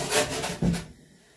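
A stout rougher rasps uneven spots on a deer mount form, two or three close, coarse scraping strokes that stop abruptly into quiet.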